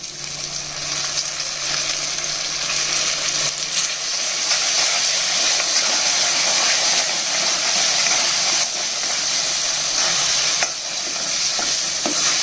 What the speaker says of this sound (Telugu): ఎంత బాగా వేగిన తర్వాత పచ్చడి వేసేసుకోవాలి